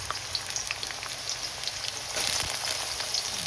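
Chopped onion and garlic frying in oil in a frying pan, a close, steady crackling sizzle with scattered pops that grows slightly louder partway through.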